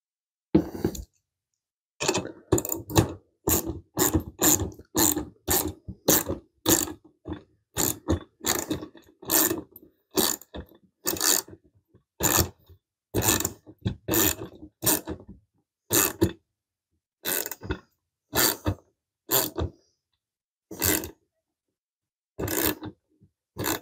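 A hand ratchet tightens bolts during assembly of a garden cart, giving bursts of sharp, close clicking in steady runs separated by short pauses that last throughout, with no talking.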